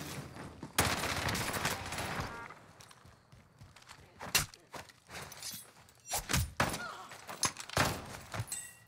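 Gunfire from the Nikita weapon in the video game Warzone, sharp bursts and single shots scattered irregularly among thuds and footsteps, loud and close, with quiet gaps between volleys.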